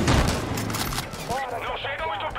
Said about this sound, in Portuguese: Olha o ataque aéreo saindo!